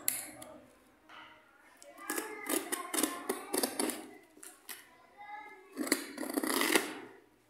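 Scissors snip open the packaging of a Transformers Bumblebee toy figure, with a series of close, crisp cuts in rhythmic clusters and short pauses between bursts.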